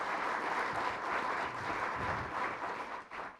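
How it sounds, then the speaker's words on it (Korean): Sustained audience applause at a Korean policy debate forum, a dense even patter of many hands clapping steadily for a few seconds before tapering slightly at the end. "박수 한번 크게 보내주시기 바랍니다"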